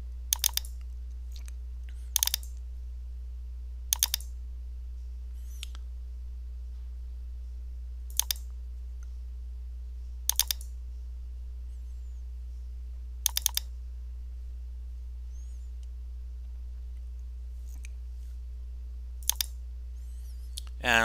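Sparse computer keyboard and mouse clicks while setting up a project in ArcGIS Pro, isolated sharp taps spaced a few seconds apart over a quiet low hum, with no talking.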